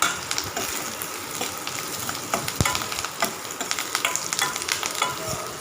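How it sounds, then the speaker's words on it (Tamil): Chopped large onions sautéing in a pan over a medium flame, a steady loud sizzle broken by frequent rhythmic scrapes and taps of a stirring spoon. "நல்லா மீடியம் ஃப்ளேம்லேயே வச்சு நல்லா வதக்கி விட்டுக்கலாம்."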